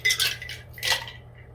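Ice dropped into a cocktail shaker during St. Patrick's Day drink making, two bright rattling clatters close by, the second a little louder.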